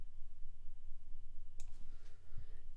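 A few sharp computer mouse clicks during a click-and-drag in Reason 7.2 music software, sounding close and dry over a steady low electrical hum, with a soft low thump near the end.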